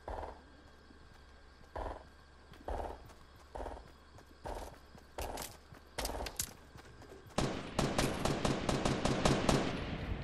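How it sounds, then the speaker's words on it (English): Gunfire in the Fortnite video game, with short separate bursts of shots spaced through the first half, then a longer dense volley of rapid shots near the end, at moderate distance. "somebody's getting shot"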